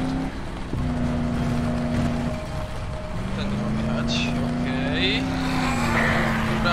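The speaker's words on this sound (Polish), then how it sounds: "ale podskakuje ten samochód" Car engine droning steadily in Dead Island while the vehicle bounces over rough ground, the pitch dipping and rising with a few knocks, loud and continuous with faint game sounds on top.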